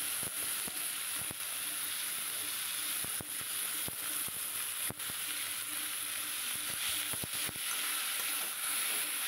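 Fish fries in hot oil in a pan, giving a loud, continuous close-up sizzle broken by frequent sharp crackles and pops, with no talk.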